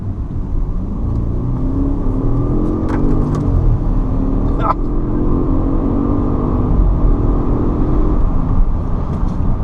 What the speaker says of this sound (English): it accelerated so hard